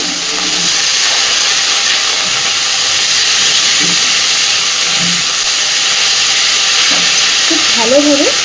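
Finely chopped, washed ivy gourd (kundri) goes into a pan of frying onions and sizzles, a loud, steady close hiss that lasts throughout, with faint scraping of stirring and brief clinks near the end.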